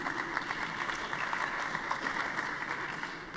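Applause from delegates at a PES party congress session, a continuous even wash of clapping heard from a distance, moderately quiet and unbroken, with no voices on top.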